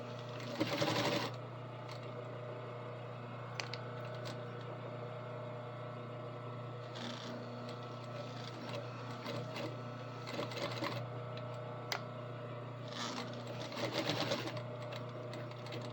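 A sewing machine runs steadily while stitching an apron, a continuous close mechanical whir with a low hum, rising briefly near the start and toward the end, with a few small clicks as the reverse pedal is worked; no talking.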